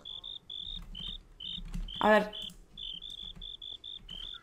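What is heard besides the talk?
cricket chirping in Minecraft video game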